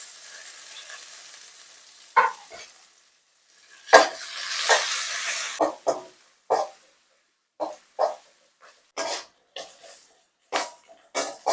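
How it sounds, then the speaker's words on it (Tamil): Small shallots sauté with fennel seeds in a pan for crab masala: a faint sizzle, then repeated close bursts of stirring and scraping that come in a loose rhythm. "வெங்காயம் வதங்கிடுச்சு"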